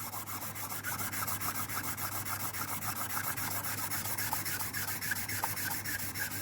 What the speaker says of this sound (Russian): Наждачка у нас 800-ка. Это для таких супер, прям деликатных работ.